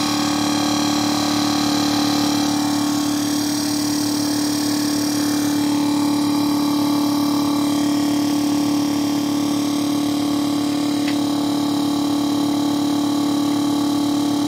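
A Gerard Morin pump runs on just under 12 volts, giving a loud, constant mechanical hum with a strong steady tone that stays unchanged throughout.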